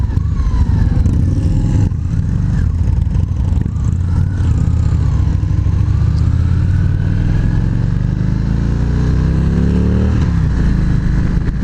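A Victory Magnum motorcycle with a 21-inch custom front wheel on a demo ride: loud steady engine drone with rising and falling pitch as it revs through gears, plus heavy wind rumble, close and continuous, no talking.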